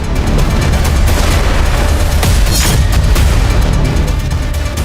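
A loud, dense roar of blasts and rumbling booms from wartime strikes on energy sites in Ukraine fills the whole stretch, with sharp bursts cutting through continuous heavy low-frequency noise.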